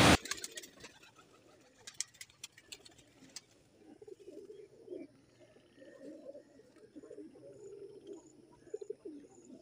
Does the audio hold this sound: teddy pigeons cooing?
yes